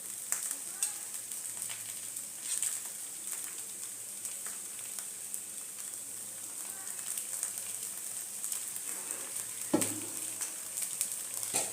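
Appam sizzling in oil in a covered pan, a steady close crackle and hiss with small pops, occasionally punctuated by a faint utensil clink.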